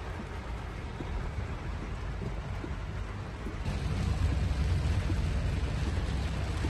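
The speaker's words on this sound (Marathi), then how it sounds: "मुंबईमध्ये पाऊस सुरू झालाय, अनेक भागात जोरदार पाऊस सुरू आहे" Heavy monsoon rain falls over Mumbai as a steady, low broadband roar that swells louder partway through; no distinct thunderclap stands out and no one speaks.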